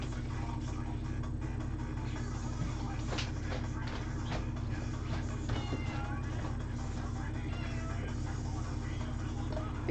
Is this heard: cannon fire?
no